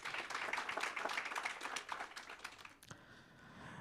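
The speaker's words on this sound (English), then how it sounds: "Can we clap hands for him?" An audience applauds at a national planning indaba and young planners awards session, welcoming an urban planner. Quick, dense clapping runs for nearly three seconds, then breaks off into quieter room ambience. The sound is fairly faint and distant.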